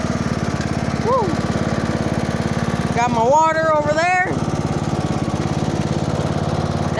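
A tractor engine runs steadily throughout while being driven, a continuous low mechanical drone in the foreground, with a person speaking briefly over it partway through.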